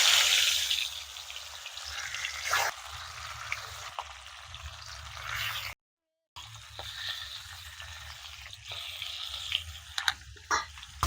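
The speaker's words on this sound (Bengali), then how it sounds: "তেল ভালোভাবে গরম হয়ে গেছে মাছটা দিয়ে দেব" Hilsa fish, a large one of about a kilogram, frying in hot oil in a wok: a close, steady crackling sizzle with scattered sharp pops, a brief silent break midway, and no voices.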